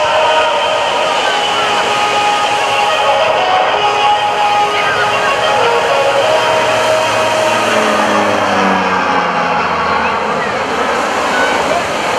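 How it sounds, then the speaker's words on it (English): A C-31 Troopship aircraft makes a low-altitude, high-speed pass at a beach airshow, producing a loud, steady engine roar with a broadband rush that fills the whole clip and shifts in pitch as the plane sweeps past. "the C-31 Troopship aircraft comes in for a low-altitude, high-speed pass"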